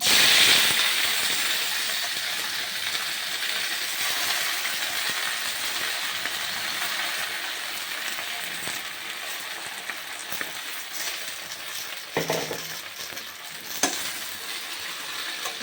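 Gongura leaves frying in a little oil give a steady, close sizzle and hiss throughout, with a few brief clatters of stirring near the end.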